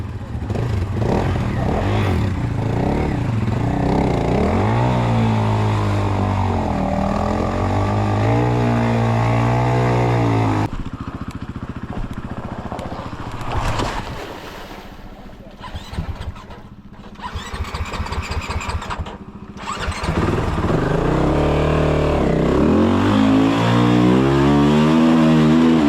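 Motorcycle engines on a rugged Top End moto tour, loud and close with steady droning revs and shifting pitch, a rougher stretch of sputtering and idling in the middle, then strong revving again; voices are heard briefly.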